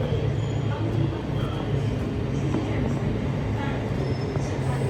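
Steady rumble of a Southwestern Railway train rolling past nearby on a line near London, a continuous low drone with faint rail clatter throughout and no clear start or end.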